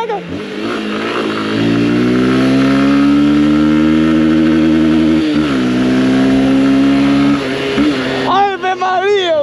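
A Honda XRE 190 motorcycle engine hums steadily with rising and falling revs on a night ride, close and loud throughout, ending in a sharper burst of throttle.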